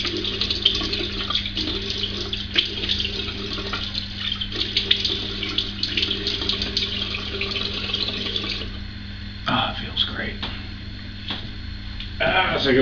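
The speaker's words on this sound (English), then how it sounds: "Sorry about running the water and draining this." Tap water runs steadily into a sink and drains during a wet shave, a continuous close splashing hiss with a brief change near the end.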